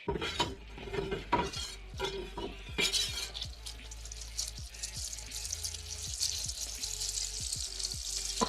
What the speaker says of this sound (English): Come on now, whisk it.